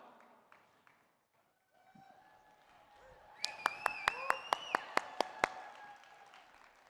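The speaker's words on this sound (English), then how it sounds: "you should be giving yourself a round of applause" Audience applause in a general-session hall rises quickly into broad clapping with sharp individual claps standing out, loud and sustained after a short quieter stretch of faint speech.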